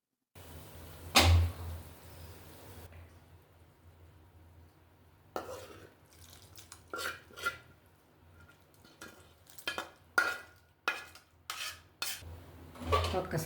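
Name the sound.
tempering poured into fish stew and stirred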